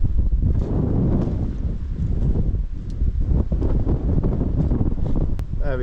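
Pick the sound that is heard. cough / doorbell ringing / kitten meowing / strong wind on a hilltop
strong wind on a hilltop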